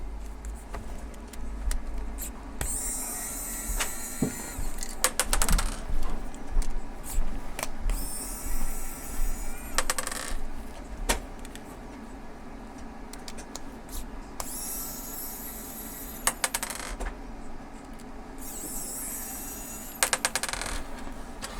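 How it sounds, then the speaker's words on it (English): T10 screws come out of the side of a WD Easystore drive enclosure: repeated bursts of small metallic clicking and rattling from a close driver, with steady background hum between them. "Just to take the screws off on the side."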